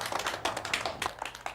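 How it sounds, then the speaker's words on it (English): A short burst of children clapping for a classmate named Sheldon, with rapid uneven claps from a small group in a room. The claps are close and moderately loud, with no talking. "Let's clap for him."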